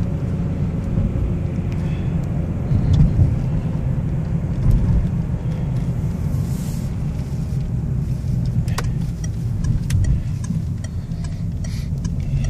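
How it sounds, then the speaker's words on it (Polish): A 2005 Peugeot 407 with a 2.0 petrol engine driving straight along a road, giving a steady low road and engine rumble with tyre noise, continuous and fairly loud throughout with no speech. "auto jedzie prosto, nigdzie nie ściąga."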